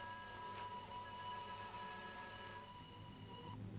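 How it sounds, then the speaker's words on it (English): A train approaching as a radio drama sound effect, a steady continuous rumble with a sustained tonal hum running throughout, moderately loud, with no talk. "It is a train. Thundering down the valley."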